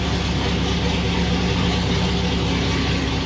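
A Corvette C6 Z06 fitted with a Novi 1500 supercharger runs steadily, a loud, smooth, even engine drone at close range with no pauses or revving changes.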